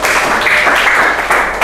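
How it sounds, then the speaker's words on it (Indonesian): Group of teachers clapping hands together at the close of a mentoring session, brief steady applause filling the room, close and fairly loud. "tepuk tangan buat kita semua"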